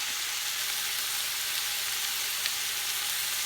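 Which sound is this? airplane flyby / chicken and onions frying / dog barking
chicken and onions frying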